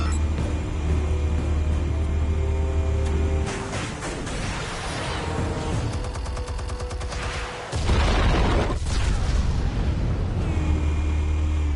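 Explosives detonate in Batman: The Telltale Series, with loud rumbling booms and crackling bursts that rise out of a droning background, including a heavy blast late on, and no voices.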